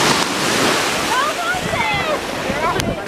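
Ocean surf at a Gulf Shores beach, a continuous loud wash of breaking waves with wind buffeting, and faint voices and birdlike cries over it.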